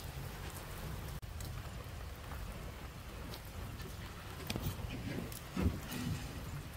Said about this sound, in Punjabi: ਲੋ ਜੀ ਮੀਂਹ ਫਿਰ ਉਤਰੇ ਆ